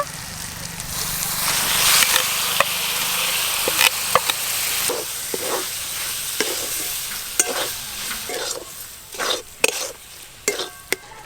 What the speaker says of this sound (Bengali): মাছ দেওয়ার পর বেশ কিছুক্ষণ ধরে কষে নেব